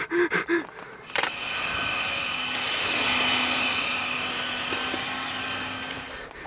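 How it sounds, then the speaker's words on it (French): A vacuum cleaner left running roars in a loud, steady, broadband drone after a few short tonal sounds and a click at the start, continuing unbroken to the end. "Zut, l'aspirateur, j'ai oublié de l'éteindre."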